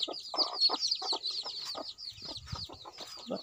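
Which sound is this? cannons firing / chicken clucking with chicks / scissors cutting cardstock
chicken clucking with chicks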